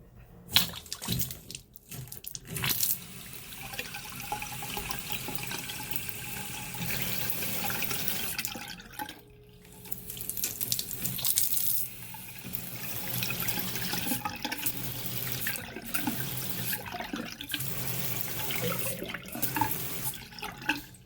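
Water runs and sputters from an old faucet with angle stops that no longer hold back the flow, a steady close hiss and splatter lasting throughout with brief dips and surges, no voices.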